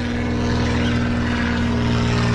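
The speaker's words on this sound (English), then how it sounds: "got that banner plane flying over." A propeller banner plane drones overhead near the beach at Orange Beach, Alabama, a loud steady engine hum heard from a boat offshore, blended with boat motor and wind noise.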